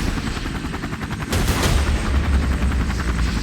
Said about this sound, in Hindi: बाबा ने हेलीकॉप्टर को रोड पर ही लैंड कर दिया।